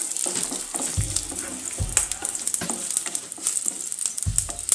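Chana dal and cut dried red chilli fry in oil in a pan for sambar, a steady close sizzle with crackling and a few dull knocks from stirring, without speech.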